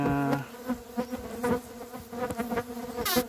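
Close, steady buzzing of Trigona biroi stingless bees from Southeast Sulawesi, with wavering harmonic tones rising and falling in a cluster over about three seconds.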